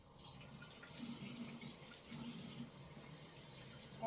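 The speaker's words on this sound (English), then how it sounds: "I'm going to rinse this off quick. And I just got a little cloth, and I'm going to rinse it off that way." Tap water runs steadily into a sink while a small cloth is rinsed under it, a faint continuous close splashing flow with slight swells and no talk.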